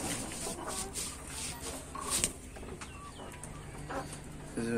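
Chickens in a farmyard where goats are also kept give soft clucks and coo-like calls over a steady outdoor background, moderately close, with no talking.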